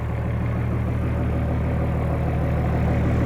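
Nissan Patrol engine fitted with a big turbo and large injectors idles steadily and loudly close by, a continuous low rumble with no talk over it.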